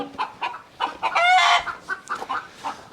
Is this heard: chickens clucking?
yes